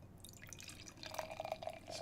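Stout is poured slowly into a glass in a drawn-out pour, giving faint, soft liquid trickles and drips that grow into quicker splashes toward the end, with no voices.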